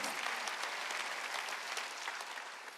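A short burst of steady applause from a church congregation, many hands clapping together at moderate volume.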